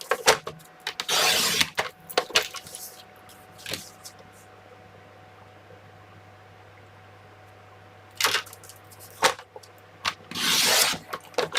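Scissors or a blade cutting strips of paper for a scrapbook album, heard as close rubbing, scraping bursts near the start and again toward the end, with a quiet stretch between.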